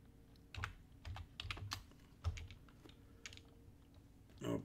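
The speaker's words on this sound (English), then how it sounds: "I'll type in INO for the float." Keystrokes on a computer keyboard as a stock ticker is typed, coming in several quick bursts of close, crisp clicks with short pauses between them and no talking.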